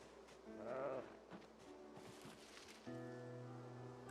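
In Project Zomboid, a sheep gives a short wavering bleat near the start, followed by soft rustling and a steady droning tone in the background.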